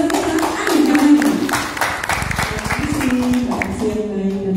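An audience at a hotel training event for small business owners applauds a moderator, with a patter of clapping in the middle that mixes with ongoing voices and background sound.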